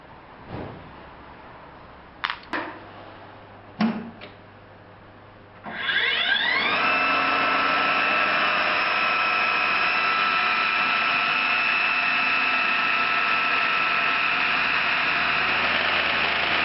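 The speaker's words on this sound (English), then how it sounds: "make sure that you don't drill too deep, because you don't want a hole at the bottom of the box" A power drill boring a hole into the lid of a small wooden box: a few sharp knocks and clicks, then the motor spins up and whirs steadily and close for about ten seconds.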